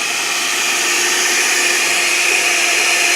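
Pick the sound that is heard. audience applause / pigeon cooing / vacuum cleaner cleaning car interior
vacuum cleaner cleaning car interior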